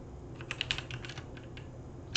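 Typing on a computer keyboard, a short burst of quick, light key clicks close by, followed by a sudden louder knock at the end.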